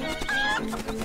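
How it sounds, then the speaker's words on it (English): A chicken in the Link's Awakening video game gives a short, close, loud burst of clucking and squawking, heard alone over a steady game tone. "Chicken! Chicken!"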